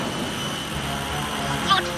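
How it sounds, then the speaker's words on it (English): A car's secret-weapon jet engine thrusts forward with a steady, roaring whoosh that holds through the clip, with a short bright flourish near the end, under voices. "And the throttle jet surged ahead."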